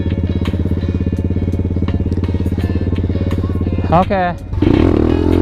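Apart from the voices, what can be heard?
pit bike wheelie, stopped with foot brake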